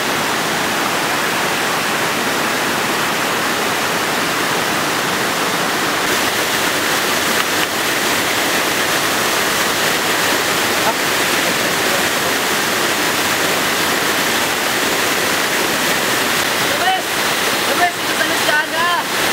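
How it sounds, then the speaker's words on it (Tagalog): Waterfall in Luisiana, Laguna, heard from the top of the falls as a loud, steady rushing roar that fills the whole scene, with faint movement noises near the end. "nandito naman tayo sa pinakataas yung mismong talon"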